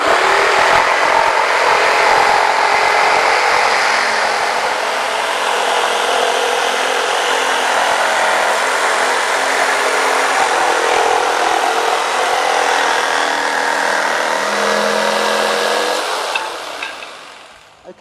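A Black & Decker KS900EKX jigsaw with pendulum action cuts steadily through a workpiece, a loud continuous buzzing saw whine close up that winds down at the end, with no talking.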